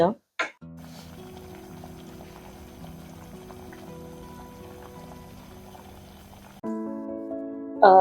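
Fish curry gravy bubbles steadily in a pot, a soft continuous simmering hiss with faint clinks, broken by short louder bursts at the start and a brighter burst near the end.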